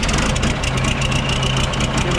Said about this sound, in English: But anyways, start it up.